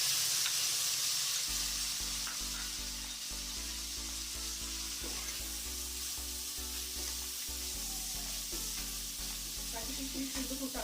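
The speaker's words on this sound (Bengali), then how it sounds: "কাজু কিশমিশ কিন্তু খুব তাড়াতাড়ি ভাজা হয়ে যায়" Cashews and raisins fry in a pan with a soft, continuous sizzle and occasional stirring, heard alongside a steady low tonal background.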